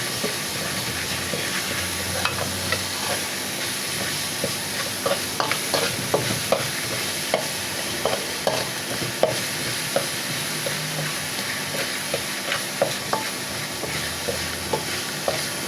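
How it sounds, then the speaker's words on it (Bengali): Spices fry in a pan with black cumin, ginger-garlic paste and sweet cumin for a pumpkin curry with black gram dal. A steady low sizzle runs throughout, with soft scraping stirs recurring at irregular intervals. "তো ভালো করে মশলাটা ভেজে নিতে হবে"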